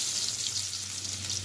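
Potato pieces frying in hot oil in a pan, a steady bright sizzle with a low hum underneath, continuous and close with no talking.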